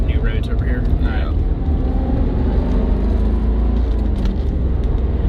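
A Chevrolet C4 Corvette cruising with a steady engine drone and road noise while the driver works through a long, slow manual gear change, with voices talking faintly early on.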